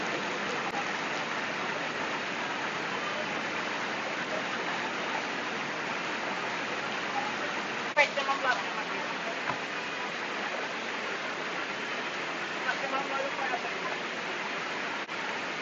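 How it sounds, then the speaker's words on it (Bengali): Heavy rain pours down steadily over a waterlogged street, a constant fairly faint hiss broken by a few soft clicks and knocks. "মুষলধারে বৃষ্টি পড়ছে।"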